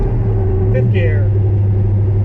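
A 1000 rwhp drag car with 3.55 gears lugs in 5th gear, its low, steady engine drone and rumble filling the cabin throughout, with a brief whine rising over it.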